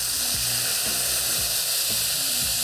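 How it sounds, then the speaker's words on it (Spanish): A frying pan being deglazed with butter after cooking saltimbocca gives off a steady, loud, close sizzle that fills the whole moment, with light stirring scrapes underneath and no talking. "Van a desglasar."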